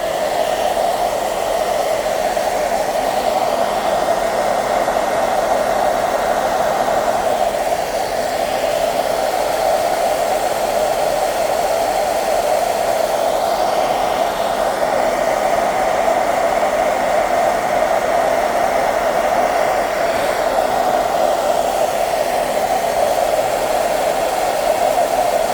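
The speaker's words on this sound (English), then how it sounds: "I'm gonna blow dry this for a few minutes on the hot setting" A hair dryer on its hot setting blows steadily over a ceramic amphora pot, a loud, continuous whooshing roar that holds unchanged throughout.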